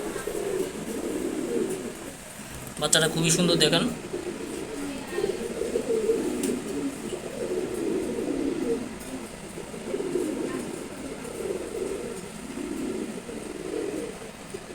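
Pigeons coo softly in repeated low phrases beside a one-month-old chick, with the male and female parents nearby, while a person talks over them and a brief rustle or clatter cuts in near the start.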